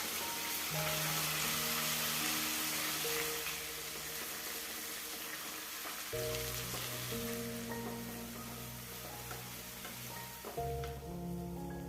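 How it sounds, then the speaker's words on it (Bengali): Ground onion paste dropped into hot oil tempered with cumin, a dense continuous sizzle and hiss close up, with faint stirring under a steady tonal background hum, no voices. "ফোড়ন থেকে ভালো গন্ধ বেরোতে শুরু করলে তাতে আমরা দিয়ে দেব 3টে পেঁয়াজ বাটা"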